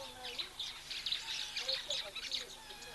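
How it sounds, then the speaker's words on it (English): Oxpeckers calling at a waterhole, a run of quick, bright chirps and twitters that repeat irregularly at moderate distance over a soft outdoor background. "And you hear those oxpeckers now."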